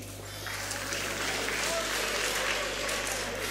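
A crowd at a gathering applauds steadily, with dense, even clapping over a constant low hum that lasts the whole few seconds.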